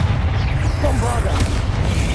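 A Bombarda blasting spell goes off in Hogwarts Legacy, a heavy booming blast over a continuous low rumble amid a busy stretch of spellcasting combat, with a voice talking underneath.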